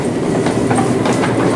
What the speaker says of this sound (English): That's the sound of a train.